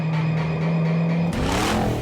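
A 1,000-horsepower methanol-injected Ford car goes to wide-open throttle, a steady engine drone suddenly rising into a loud, surging roar as it accelerates hard.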